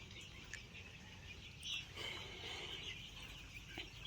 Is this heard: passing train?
no